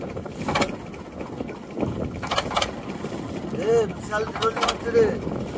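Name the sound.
wind and a boat rocking on waves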